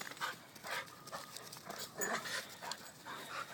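A playing dog makes panting, huffing and whimpering noises in steady bursts, close and fairly quiet against light background noise.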